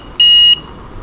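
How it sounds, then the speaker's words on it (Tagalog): A single short electronic beep from a Coswheel T24 electric bike horn, shrill and steady, sounds once for about a third of a second against quiet background. "And meron siyang tunog na yung mga busina."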